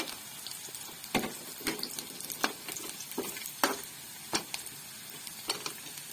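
Onion and chilli fry in a pan with a faint, quiet sizzle, broken by a handful of sharp utensil taps and scrapes at irregular intervals as the mixture is stirred, with no one speaking.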